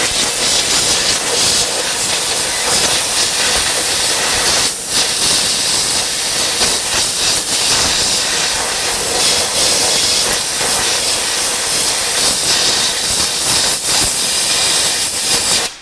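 A specialty pneumatic air gun blasts a steady, loud hiss of compressed air to clean a part, running continuously for the whole stretch with no talk.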